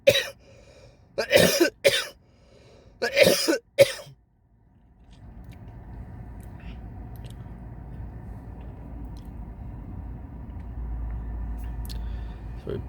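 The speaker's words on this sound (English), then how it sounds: "I think I'm about to cough." A person coughs several times in short, harsh bursts close by, followed by the quiet hum of a car interior after the coughing stops.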